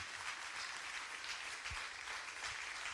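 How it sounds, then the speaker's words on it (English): An audience at a discussion event with a New Orleans mayoral candidate gives a round of applause, heard as a faint, distant, even patter of many hands clapping for about three seconds. "Can we get a round of applause?"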